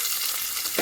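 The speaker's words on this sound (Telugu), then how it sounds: "అలా ఆనియన్ వేస్తున్నాము." Onions frying in hot oil for a mint rice dish, a brief burst of loud, steady crackling sizzle close by, swelling slightly at the very end.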